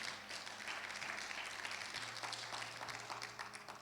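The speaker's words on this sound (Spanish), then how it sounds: "Cántale un fuerte aplauso al Señor," A church congregation at a Thursday Bible study claps together for the Lord, a steady wash of applause heard from a distance at low level, with a faint droning tone running underneath.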